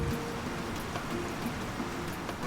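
Rain falling steadily at the Banawe Hotel in the Philippines, a dense, even hiss of drops pattering on surfaces, close and continuous with no voices.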